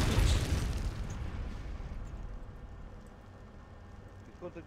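Artillery shells exploding in a Chechnya mod war game set during the Battle for Grozny, a heavy booming blast at the start that rolls off into a long low rumble, with a smaller thud near the end.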